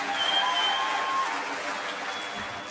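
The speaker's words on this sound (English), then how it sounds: "Let's give another round of applause to Dr. Vilsaint and Judge Stoner." An audience at a general session of the OHI 2025 World Convention applauds, a dense, steady clapping from a crowd that fades slightly toward the end.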